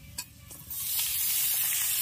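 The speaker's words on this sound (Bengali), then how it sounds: "আলুগুলো হালকা ভাজা হয়ে এসছে, এবার আমি কেটে রাখা গাজরটা এর মধ্যে দিয়ে দেবো।" Chopped carrots go into a pan of lightly fried potatoes for homemade chowmein. After a few light knocks, a loud hissing sizzle surges up and holds steady.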